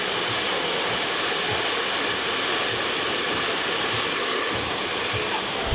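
A hair dryer blows at high heat on a low fan speed, a steady close whooshing roar that holds level throughout while hair is being styled.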